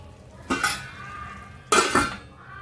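A spoon stirring Mumbai-style pav bhaji masala in a pan: two short bursts of scraping and clinking against the metal, separated by a quiet pause.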